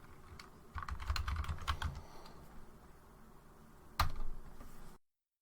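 Rapid bursts of keystrokes on a computer keyboard as a password is typed, clustered clicks early on, then a pause and a final sharp key press, close and fairly quiet.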